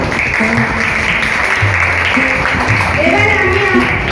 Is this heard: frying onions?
no